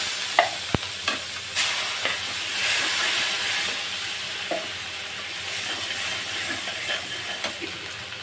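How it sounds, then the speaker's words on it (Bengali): Dried chilies, cumin and onion sizzle and fry in a pan, with a steady hiss and occasional clinks and stirring scrapes, close and moderately quiet with no talk. "শুকনো লঙ্কা দিলাম জিরে দিলাম একটু পেঁয়াজ দিলাম"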